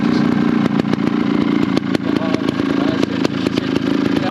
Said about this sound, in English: Last time the go-karts, this time trial bikes.